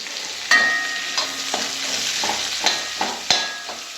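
Onions and home-grown turmeric are stirred in a frying pan with a wooden-handled spoon, giving a steady close sizzle broken by repeated scraping strokes and occasional sharp knocks against the pan.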